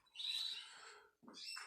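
Canaries in a breeding aviary give a couple of brief high chirping calls, faint and fairly close, separated by a short pause.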